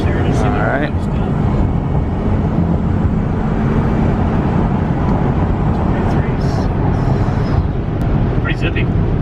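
Ford 6.0L Powerstroke turbo diesel truck under full-throttle acceleration, a loud, steady, dense engine roar that holds for the whole stretch with no letup, recorded close up.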